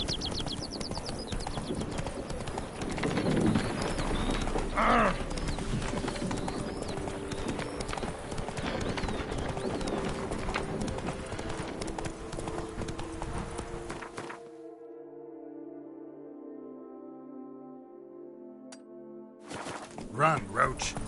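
Roach, a horse in The Witcher 3 video game, gallops in rhythmic, steady hoof clip-clops under game music and voice, then the hoofbeats fade out and a sustained tone carries on alone.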